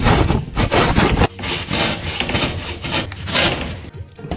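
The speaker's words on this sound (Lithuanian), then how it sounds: "Imam družbą ir varom." A chainsaw cuts through sturdy red gypsum board while a fireplace frame is being built. The cut is a loud, close, harsh rasping with rhythmic strokes, a brief break, then continuous grinding.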